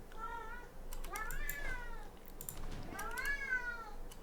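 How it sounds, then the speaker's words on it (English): A pet cat gives several weak, raspy meows, as if it has a cold, spaced across the moment over faint background keyboard tapping and room noise. "Sorry if you can hear my cat. It's a bit of a weak meow there."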